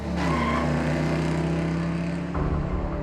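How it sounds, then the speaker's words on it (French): A taxi accelerates hard with a strident, steady engine roar that holds loud and close throughout, shifting pitch abruptly near the end as it pulls away. "Son taxi bondit dans un rugissement strident."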